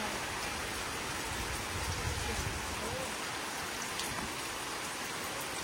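Steady rain falls in a dense, even hiss, with no pauses and no voices.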